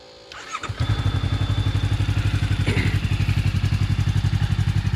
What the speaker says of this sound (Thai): เสียงที่ดังๆ อันเมื่อกี้นะครับก็คือปั๊ม ปั๊มดูดน้ำมันไหลกลับของเทอร์โบนะครับ